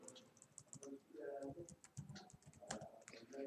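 Keys clatter on a computer keyboard as someone types, quick irregular clicks in bursts heard close and quiet, with someone speaking over and between them.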